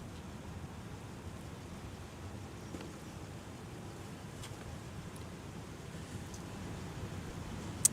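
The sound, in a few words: rain falling at an airport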